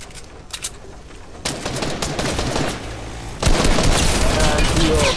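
Fortnite gunfire crackles in dense, sustained bursts through a squad match, growing louder partway through, while players talk over the shooting.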